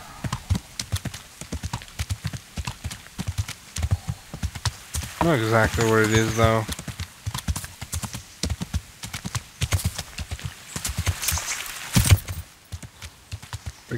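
Horse hooves clip-clop steadily in the game Kingdom Come Deliverance, a close continuous walking rhythm throughout, joined midway by a brief whinny and overlaid by someone talking.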